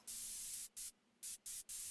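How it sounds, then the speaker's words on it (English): Bright, hissy white noise synth layer in Ableton sounds in bursts, cutting off briefly several times in an uneven rhythm, loud and alone. "It's just bright white noise."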